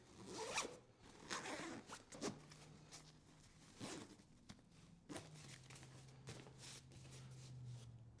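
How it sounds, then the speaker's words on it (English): A zipper being pulled closed along the main pocket of a BAGSMART backpack, with several quick rasping strokes followed by a longer steady drag, close and fairly quiet, with no speech. "And then we can zip close this main pocket."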